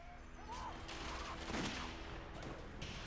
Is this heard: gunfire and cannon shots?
yes